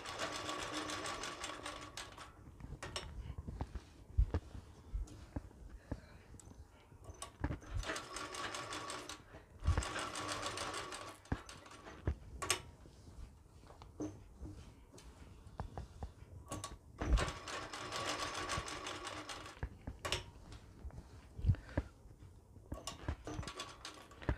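A sewing machine stitching a fine darn (rafoo) on fabric runs in fast mechanical ratcheting bursts separated by short pauses, close and fairly quiet, with brief handling clicks between runs.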